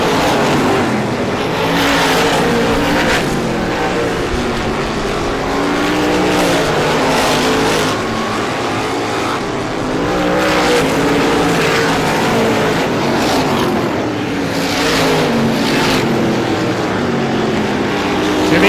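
Race cars at the 51st Star Classic asphalt oval roar through a turn, several engines droning and revving in loud, overlapping waves as cars pass close by one after another, with a continuous engine din throughout.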